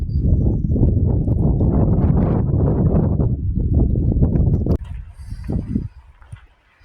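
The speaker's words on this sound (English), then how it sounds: "I'm probably not gonna stay out here for a long time, especially if it keeps blowing hard like it is right now" Hard wind gusts buffet the microphone at a ravine along Hwy 90 and Rim Road, a heavy roaring rush that drops off abruptly and fades into weaker, intermittent gusts.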